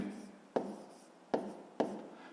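Pen scratches on paper as an answer is written by hand in a maths exercise: close, faint strokes in short repeated bursts, each starting sharply and trailing off, with no talking.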